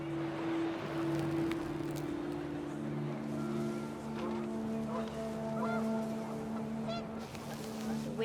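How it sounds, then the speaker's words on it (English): Panicked geese in the game What Remains of Edith Finch honk repeatedly in nasal calls over a steady wash of wind, the honks clear and fairly near, with other bird calls joining toward the end. "The wind picked up, and panicked geese appeared and quickly went."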